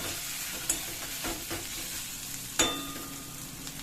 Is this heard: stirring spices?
yes